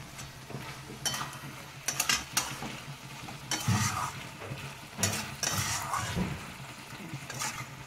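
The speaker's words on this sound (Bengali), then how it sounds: "নাড়াচাড়া করে নেব।" Vegetarian thor dalna, a banana stem curry, is stirred in a pan after fried spice powder goes in: irregular scraping spoon strokes over a soft, steady sizzle, with no voices.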